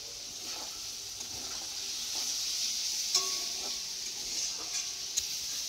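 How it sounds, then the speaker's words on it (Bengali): Onion, potato and eggplant frying in a pan, a steady soft sizzle with faint scraping stir sounds throughout, no talk. "কি ভাজা করতেছি? পেঁয়াজ, আলু, বেগুন দিয়ে একটা ভাজা।"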